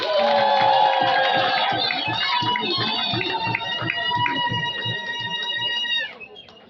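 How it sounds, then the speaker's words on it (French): A crowd at a thanksgiving mass for a Congolese general erupts in loud cheering and shouting that holds steady, then drops off sharply near the end. "Acclamez un peu pour le meilleur"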